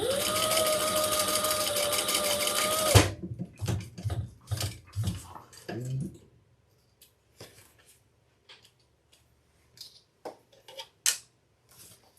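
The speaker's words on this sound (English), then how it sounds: "I'm going to put those 2 pieces together and just sew them together" Sewing machine stitching two handbag pieces together, a loud steady whirring run for about three seconds, then a few short bursts and clicks of handling before the room falls mostly quiet.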